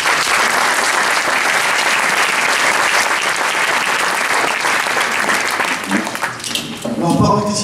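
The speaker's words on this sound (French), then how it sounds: "donc on peut l'applaudir." Audience applauding at a town council New Year's greetings ceremony in Ceyzériat, a sustained dense clapping from a large crowd that thins out toward the end as a voice resumes.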